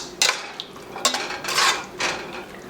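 Metal spoon scraping and knocking against a pan as garam masala is mixed into ground coconut paste for Thalassery chicken biryani, several separate scrapes at irregular intervals, close and fairly quiet.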